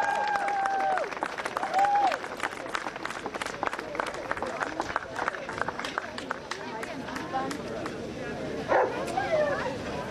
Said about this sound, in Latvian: Aplausī!